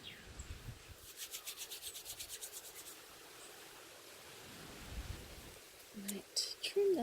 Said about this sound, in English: I can just pick it up in my hands, and using heat and friction it also felts